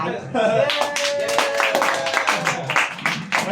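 An audience claps at a lively gathering, a short burst of dense hand claps from several people near and loud, with cheering voices mixed in throughout.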